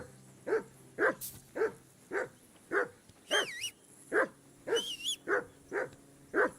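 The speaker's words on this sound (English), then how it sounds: "Henry, whistle at that mutt of yours to stop barking." A dog in the video game Kingdom Come: Deliverance 2 barks repeatedly in an even rhythm, about a dozen barks, with a couple of bright warbling tones mixed in.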